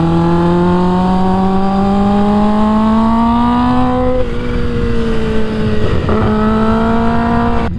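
A Kawasaki Ninja H2 motorcycle engine droning loud and close, its pitch sliding slightly upward before two sharp dips as it downshifts to first gear, with no voices heard.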